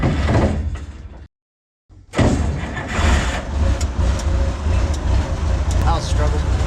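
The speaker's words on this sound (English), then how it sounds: "now I'm gonna hop in the 966 and start her up" A 29-year-old 966 wheel loader cranks and its diesel engine starts after a brief silent gap, settling into a loud, rough running rumble close by, with someone talking over it.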